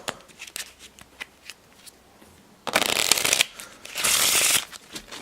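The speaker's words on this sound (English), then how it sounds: "Let me just shuffle them for you guys." A deck of Bicycle playing cards is shuffled by hand: soft ticks and taps first, then two loud, close riffle shuffles of about a second each.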